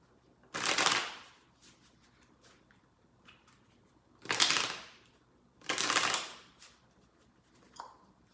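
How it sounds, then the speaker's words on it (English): Tarot cards are shuffled in three loud riffling bursts, each lasting about a second, with quieter handling sounds between them and no talking. "3 more shuffles."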